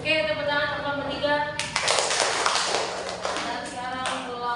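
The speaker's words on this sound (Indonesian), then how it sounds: "tepuk tangan teman bertiga" A classroom bursts into applause for a group of three students: a dense round of many hands clapping, close and lively, rising suddenly after a voice speaks and then tapering off as talk resumes.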